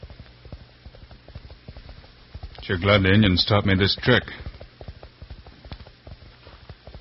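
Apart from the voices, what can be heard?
horse hooves galloping, radio drama sound effect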